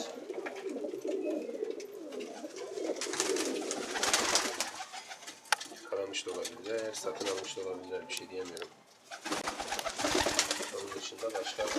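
Pigeons coo softly near a loft where a wary runaway pigeon is being lured, low repeated calls that sit under steady talking, with light clinks and rustling around them.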